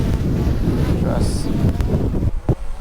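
Strong wind buffeting a microphone on the coast at Gold Coast, Queensland, a steady loud rumble throughout with brief bumps near the end and a voice talking underneath.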